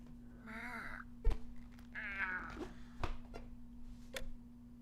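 A cat in the video game Night in the Woods meows twice, with short, clear, drawn-out calls over a faint steady hum and a few soft thuds.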